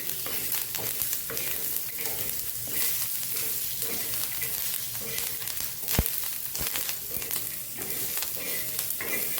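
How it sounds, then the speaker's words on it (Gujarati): Green chillies, peanuts, garlic, cumin seeds and coriander stems sauté in a pan for Maharashtrian thecha chutney, with a steady close sizzle and the scrape of stirring throughout, plus a couple of sharp knocks. "આ બધું સરસ સાતળી લેવાનું આપણે મસ્ત એવું।"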